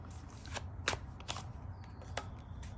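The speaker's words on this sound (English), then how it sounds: "Let me shuffle this a little bit more." A tarot deck is shuffled by hand in quick soft riffles and card slaps, close and fairly quiet over a steady room hum.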